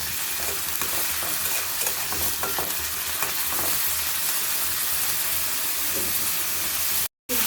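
Chicken frying with a little soy sauce in a pan, cooked with mango crush: a dense, continuous sizzle broken by quick scraping stir strokes, with a brief cut-out near the end and no voices.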